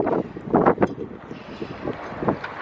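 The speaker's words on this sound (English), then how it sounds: "This wind is gonna suck." Wind buffets the microphone outdoors next to a Winnebago Micro Minnie 2108TB travel trailer, producing close, loud rumbling gusts in repeated surges over a continuous breezy roar.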